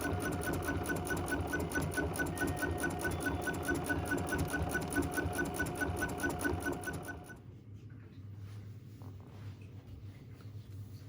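An embroidery machine stitching an in-the-hoop project, a fast, even mechanical rattle that runs steadily for about seven seconds and then stops abruptly, leaving a low background hum.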